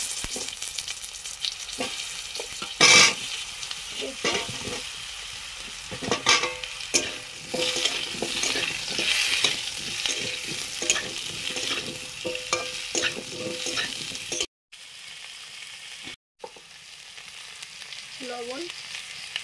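Potatoes fry in hot oil with dry red chilli, five-spice seeds and a torn bay leaf, giving a steady close sizzle broken by stirring scrapes and clatters, with a brief quieter gap near the end.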